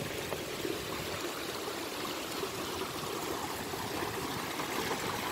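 A clear stream flows gently over white rocks beneath an expressway at Biaschina, giving a steady, even rush of water that holds at a constant level throughout with no voices.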